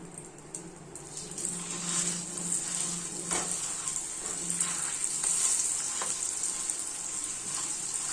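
Mashed sweet potato stirred in ghee in a pan for a sweet halwa, a steady soft sizzle with intermittent scraping and stirring noises, close up, no talk.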